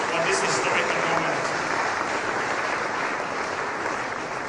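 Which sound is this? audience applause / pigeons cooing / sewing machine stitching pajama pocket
audience applause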